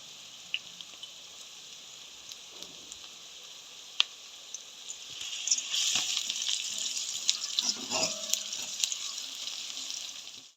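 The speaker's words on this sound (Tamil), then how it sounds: "இந்த வதங்குற ஸ்டேஜ்லேயே வந்து நான் வந்து கடுகு போட போகிறேன்" Mustard seeds hit hot oil with sautéing onions, and a steady low frying hiss swells into a louder, crackling sizzle with sharp popping spatters, close by and with no talk.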